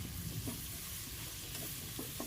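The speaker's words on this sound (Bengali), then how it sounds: "ভালোভাবে নাড়তে হবে যতক্ষণ না ভাজা হচ্ছে পেঁয়াজটা ঠিকভাবে ততক্ষণ কিন্তু পেঁয়াজটাকে ভাজতে হবে" Chopped onions fry in a pan with a steady, dense sizzle throughout, broken by a few light stirring scrapes, close and even in loudness, with no voices.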